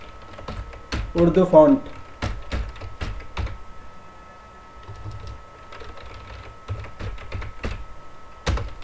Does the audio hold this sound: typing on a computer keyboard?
yes